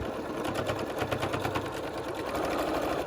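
A sewing machine back-stitches through thick elastic on a homemade filter mask, making a steady, rapid mechanical whirr of stitching throughout, close up and without talk.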